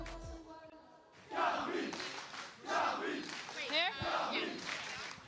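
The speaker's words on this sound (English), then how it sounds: "The fans all already out en masse cheering for the teams" Esports fans gathered for the EWC grand finals cheer and shout in loud bursts, three or four rising waves of crowd voices after a quiet opening, with indistinct calls mixed in.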